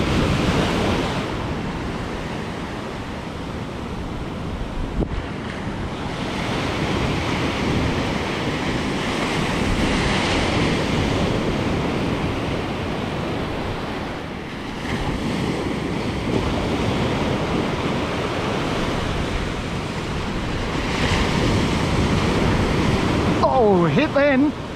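Surf breaks steadily in white water near a drain on a K'Gari (Fraser Island) beach, a continuous loud roar of waves with gusting wind buffeting the microphone throughout.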